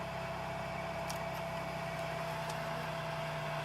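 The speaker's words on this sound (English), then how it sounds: "I kicked the AC back in, and I now have the RPM" A 2002 Chevy Malibu engine idles steadily with the air conditioning running and the RPM raised, giving a constant low hum with a faint tonal whine, close and unbroken throughout.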